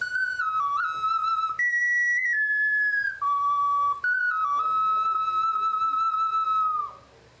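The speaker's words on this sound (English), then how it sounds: "That's what a professional ocarina sounds like." A clear, breathy ocarina melody with held notes and quick slides between pitches, played close and loud before fading at the end.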